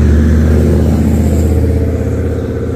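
A car rolls past close by on a cold street near a park, a loud, steady engine drone with rising and falling tone that eases slightly as it moves on; no voices.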